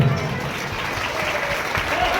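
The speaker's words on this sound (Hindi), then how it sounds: "एक बार पूरी माताओं के लिए जोरदार तालियां बजाएं आप सभी लोग।" Crowd clapping at an outdoor religious kalash yatra gathering, a steady wash of many hands applauding at moderate loudness with a faint voice in the background.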